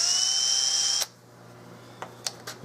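A drill countersinking a hole in a Turkish walnut gunstock whines loudly and steadily for about a second, then stops, leaving faint room hum and a few light taps.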